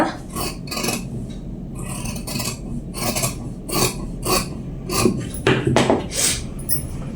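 Blouse fabric being cut with scissors into four pieces, giving repeated rasping snips and scraping strokes up close, steady and fairly loud, with no talk.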